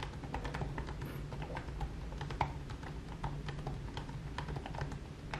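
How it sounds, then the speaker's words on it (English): Close, steady typing on the keyboard of an Asus Zenbook S 13 OLED ultra-thin laptop, with rapid light key clicks in an uneven rhythm over a faint background hum. "the keyboard is pleasing to use. The keys are quite well spaced and sound quite nice."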